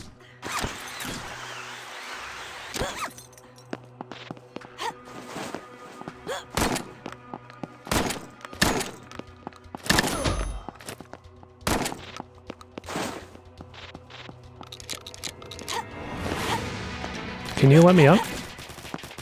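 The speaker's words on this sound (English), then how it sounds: "Is someone shooting at me?" Video game gunfire plays from a controller-driven shooter, with scattered sharp shots and short bursts in an uneven rhythm amid thumps and game noise, while a player talks briefly over it.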